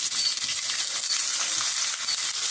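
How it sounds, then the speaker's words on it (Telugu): Chopped onions dropped into hot oil for a Telugu-style tempering, frying with a steady, dense sizzle that stays close and even throughout, with no talking. "నూనె కాగింది. ఫస్ట్ అయితే ఇదిగోండి ఉల్లిపాయలు వేస్తున్నాను తాలింపులో"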